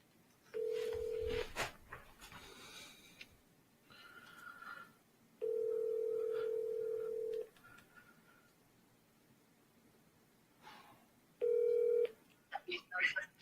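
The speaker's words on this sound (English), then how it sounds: "Let me make a quick phone call" Phone tones come through while a call is being placed: three steady, evenly pitched tones of a second or two each with quiet gaps between them. Faint voices and small clicks sit in the pauses.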